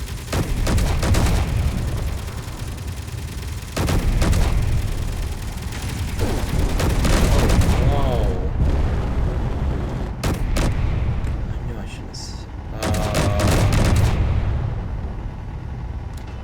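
Rapid bursts of gunfire in the space-building game Space Engineers, loud and dense, coming in heavy volleys with short gaps between them and no talk over it.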